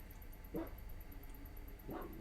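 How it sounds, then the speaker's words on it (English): A dog barks outside, two brief muffled woofs at a distance, heard faintly through the walls of a quiet room during an indoor home walking workout. "we have a dog barking outside same time"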